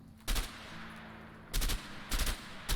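Gunfire from weapon testing in the video game A Way Out: three sharp shots spaced about a second apart, each with a short tail, over a quiet room tone.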